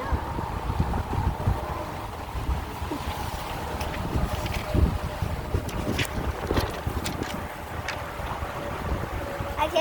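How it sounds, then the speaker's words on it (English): Gusty wind buffets the microphone outdoors on a nature walk, a constant rough rumble with a few sharper knocks and faint bits of voice underneath. "It's so windy out here"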